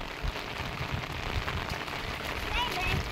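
Steady rainfall splashing on surfaces, close and continuous, with faint voices of children bathing and playing in the rain underneath.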